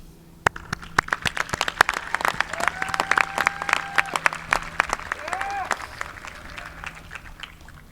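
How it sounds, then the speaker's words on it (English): A large commencement ceremony crowd applauds steadily, sharp claps scattered through a dense wash of clapping, with a few cheers rising over it. "lead all attendees in a round of well-deserved applause on this momentous day"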